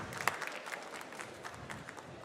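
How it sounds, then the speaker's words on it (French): Faint audience applause for a barista at the Open Brewers Cup France competition at SIRHA, scattered claps heard from a distance with a few sharper nearby hits early on. "Applaudis bien fort, s'il vous plaît."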